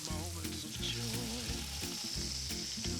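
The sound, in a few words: fruit sizzling while warming in a pan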